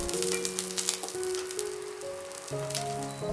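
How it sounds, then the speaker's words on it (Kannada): Garlic and curry leaves crackle and sizzle in hot oil while being fried crisp for North Karnataka dry coconut chutney powder, a steady close hiss under background music. "ಕರಿಬೇವು ಸೊಪ್ಪು ಸ್ವಲ್ಪ ಕ್ರಿಸ್ಪಿ ಆಗಬೇಕು ಅಲ್ಲಿವರೆಗೂ ಚೆನ್ನಾಗಿ ಹುರಿದುಕೊಳ್ಳಿ"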